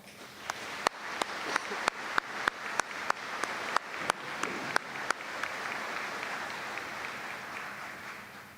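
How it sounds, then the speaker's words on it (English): Convocation audience at a university ceremony applauds faculty and staff: soft, distant crowd clapping with a regular series of sharp, loud claps near the front that stop after about five seconds while the background applause continues. "Let's give them a round of applause"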